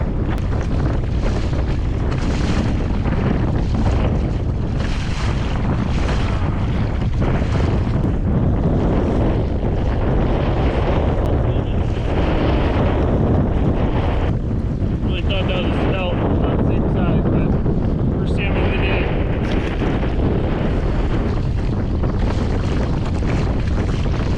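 Strong wind buffets a fishing boat at sea in a swell during a salmon trip, producing loud continuous roaring microphone rumble and gusting, with a voice partly buried under the noise.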